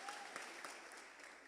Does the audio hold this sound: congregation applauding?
yes